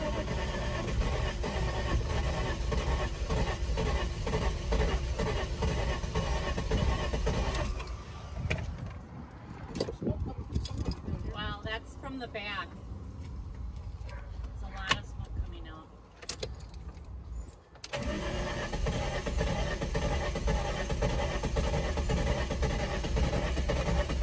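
A 1999 VW Eurovan with a VR6 engine cranks repeatedly and struggles to start, the starter churning steadily for several seconds, then faltering with clicks and clatter before cranking resumes, recorded close by.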